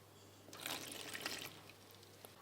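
Cold water poured into a stand mixer bowl holding panettone flour, a brief quiet trickle and splash rising then fading, with a faint drip near the end and a low steady hum beneath.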